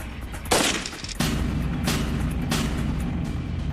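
AK-47 rifle gunfire: loud, sharp reports, the first at about half a second and another just after one second, followed by a sustained rumbling, echoing wash of further shots and reverberation with no talking.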